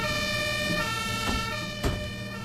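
Steady wailing fire engine siren in the OMSI 2 bus simulator, a continuous tonal warble held at even loudness under a low vehicle rumble, with a faint knock near the end.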